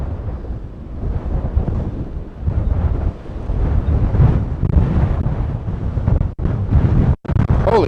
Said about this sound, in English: Man, it is super windy.